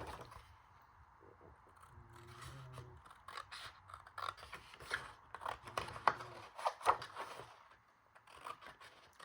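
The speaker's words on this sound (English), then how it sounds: "My smaller scissors takes a little while to cut to the top." Small scissors cut through a sheet of 12x12 craft paper with faint, repeated snips and scrapes, sparse at first and then coming in quicker clusters, close up in a quiet room.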